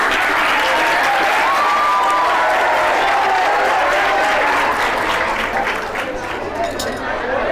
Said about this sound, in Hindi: आराम के लिए जोरदार ताली बजाइए। ताली बजाओ।